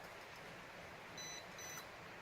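A Holy Stone HS790 GPS camera drone sounds faint, thin electronic beeps during compass calibration, two short high tones about half a second apart over a steady background hiss.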